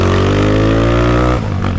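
Honda Today moped engine being run in, a loud close buzzing idle-to-rev drone that drops and stutters briefly as a gear is engaged, then picks back up; no talking.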